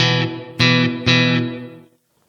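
An electric guitar played through a Blackstar AMPED 1 on its large room effect sounds three strummed chords, each cut off by the next, and the last chord rings out and decays into silence.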